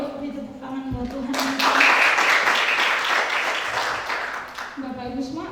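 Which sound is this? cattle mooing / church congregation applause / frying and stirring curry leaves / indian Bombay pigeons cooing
church congregation applause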